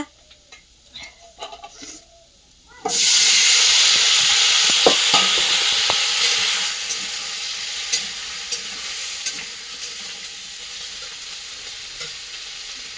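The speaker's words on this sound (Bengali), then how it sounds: "তেলটা গরম হয়ে গেছে এবার সবজিটা ঢেলে দেবো" Vegetables tipped into hot oil burst into a loud, steady sizzle that settles into a quieter frying hiss with occasional ticks and pops, after a few seconds of soft kitchen clatter.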